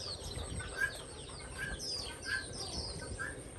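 Backyard birds and chickens kept in a rural Xuyên Mộc garden, with faint repeated chirps and clucks over a low outdoor murmur.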